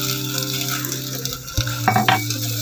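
Tomato puree sautéing in a pan for egg pulao, a loud steady sizzle with a spoon stirring and scraping against the pan near the end.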